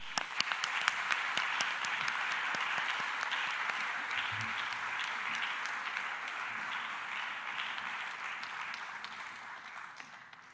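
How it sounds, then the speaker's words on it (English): A conference audience at a university alliance opening session gives a long, sustained round of applause for a former rector, with many hands clapping evenly at moderate volume and a few sharper individual claps standing out. "Please join us for a big round of applause to Eva Widberg"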